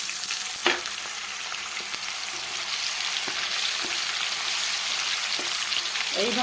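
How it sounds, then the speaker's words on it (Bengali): Paneer frying in hot white oil in a pan for an eggplant and paneer dish, a continuous close sizzle with occasional clinks of stirring, no voices. "তেল গরম হয়ে গেছে পনিরটাকে একটু ভাজা করে নেবো"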